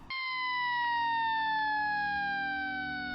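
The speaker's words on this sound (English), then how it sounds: "The silence was shattered by the piercing wail of sirens." Emergency sirens wailing continuously after a night-time air crash, a steady piercing tone slowly sliding downward in pitch, loud and unbroken with no voices.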